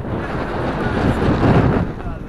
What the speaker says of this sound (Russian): А как хорошо с ветром в спину ехать.